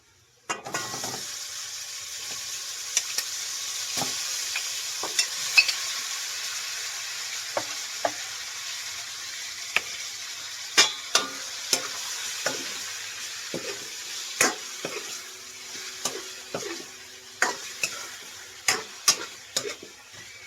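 Chicken pieces sizzle in a pan with golden-browned sautéed aromatics, a steady frying hiss punctuated by frequent sharp clicks and scrapes of a utensil stirring, growing busier toward the end; no talking.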